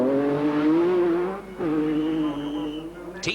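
An MG Metro rally car drives a special stage of the 1985 Lombard RAC Rally, its engine droning loud and close with a brief lift off the throttle, then pulling again before a short squeal at the end.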